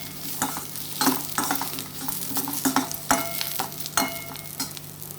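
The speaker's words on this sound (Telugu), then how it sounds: "ఇలా లైట్ షేడ్ వచ్చే వరకు వేపుకోవాలి" Onions frying in a pan for cucumber fry, a steady sizzle broken by scraping stirs and clinks of the spatula against the pan, close up, with no voices.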